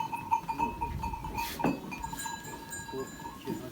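Lambs and sheep bleating in short calls near a barn on a snowy day in Central Anatolia, with a faint clink and background rustle; no talking.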